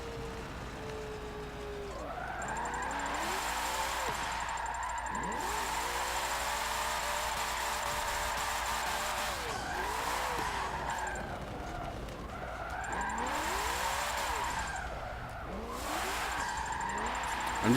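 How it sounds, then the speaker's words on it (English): A four-wheel drive car accelerating on snow, its engine revving up and down in repeated surges with wheelspin, close and steady over about eighteen seconds. "And this is even a four-wheel drive car."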